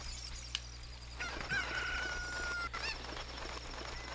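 A chicken in Zelda Ocarina of Time on N64 gives a few squawking clucks in the middle, fairly clear over a steady low game hum, with nobody speaking.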